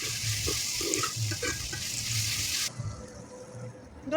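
Tomatoes sauté with a little rock salt in a pan and are stirred, giving a steady, close hiss with soft scraping that drops away to quieter background partway through.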